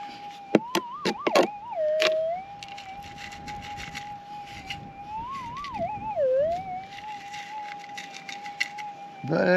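A metal detector gives a steady warbling target tone on a windy outdoor hunt, loud and close, bending in pitch, with brief handling clicks and some talk over it.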